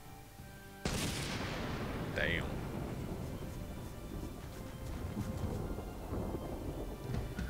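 Arcane lightning spell in the Magicka video game: a sudden loud crackling burst strikes and sustains as a dense rumbling roar for several seconds, with a brief voice speaking over it.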